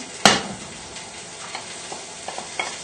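Sage, shallot and garlic fry in a little oil in a pan, opening with a sharp clatter as they land, then a soft, even sizzle with light stirring taps, close by.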